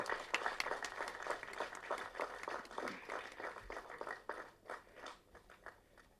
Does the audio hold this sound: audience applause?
yes